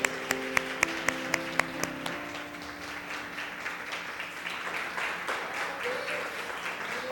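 Church congregation standing to applaud during a service, opening with a few sharp, evenly spaced claps before spreading into a softer, scattered round of applause from the room.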